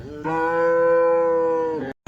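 A domestic cow at a cattle market in Chalisgaon lets out a single loud, drawn-out moo lasting nearly two seconds, close and alone, ending abruptly.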